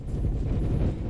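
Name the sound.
bombing explosions in a Roblox video game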